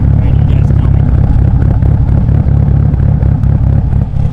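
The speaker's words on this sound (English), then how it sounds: "there's nothing that beats an Evo with cams at idle" A Mitsubishi Evo 8 engine with aftermarket cams, from an 800whp build, idles loud and close with a dense, steady, lumpy rumble that never lets up.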